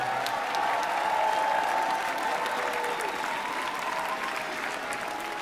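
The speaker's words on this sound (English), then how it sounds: "let's get a big round of applause for the Howard University students." A convocation audience at Howard University's Charter Day gives the students steady, dense applause, a continuous wash of many hands clapping at even loudness throughout, with faint crowd murmur beneath.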